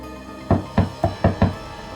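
Five firm knocks on a wooden door in a Mumbai alley in a crime drama scene, evenly spaced with a slight pause between the third and fourth, close and fairly loud against a quiet background.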